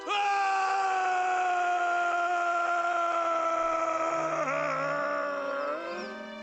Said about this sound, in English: This is a good scream.